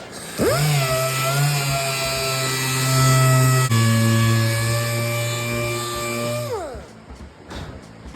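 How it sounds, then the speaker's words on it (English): A dual-action sander with 80-grit paper runs steadily against car paint, a loud continuous whine and hum that spins up, holds for several seconds with a slight shift midway, then winds down and stops near the end. "This is 80 grit on a DA. Look what it does."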